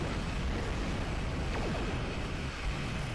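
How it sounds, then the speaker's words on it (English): Hazari ships exploding during space combat in a video game, a continuous loud rumbling roar of blasts with no clear individual bursts. "At least it gives us a good look at what the Hazari are capable of, which at the moment appears to be exploding."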